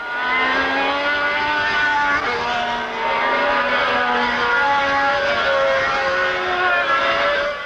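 A Renault RS10 turbo Formula One race car from 1979 screams past with a loud, sustained high-pitched engine wail, its pitch sliding through gear changes as it accelerates and passes, steady and dominant throughout.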